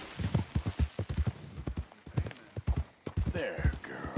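Horse hooves clip-clop at a steady trotting rhythm in the video game Red Dead Redemption 2, close and fairly loud, with a few brief vocal sounds mixed in.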